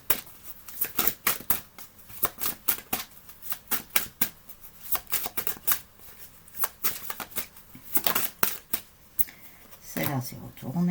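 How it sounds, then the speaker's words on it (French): Oracle cards are shuffled and flipped over by hand, giving a rapid series of crisp riffling flicks and slaps, close and fairly quiet, in an irregular rhythm with brief pauses between bursts. "Alors, les cartes se retournent."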